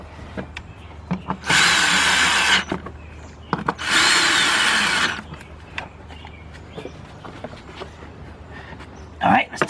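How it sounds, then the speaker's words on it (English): Two loud bursts from a cordless impact gun fitted with a 10mm deep 1/4-inch-drive socket, driving bolts in during a BMW 745i starter replacement, each run lasting about a second, with quieter handling noises and faint talk between. "Hook on our cordless gun right here with our little adapter on the end of it"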